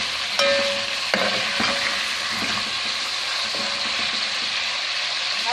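Chicken pieces for a Pakistani chicken korma fry in a pan, a continuous loud sizzle with occasional scrapes and clinks as they are stirred.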